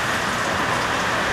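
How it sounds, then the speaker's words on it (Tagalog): Sudden heavy tropical downpour near La Paz Beach in San Narciso, Zambales, heard from shelter under a shop roof as a dense, loud, steady roar of rain hammering surfaces. "Napakalakas ng ulan."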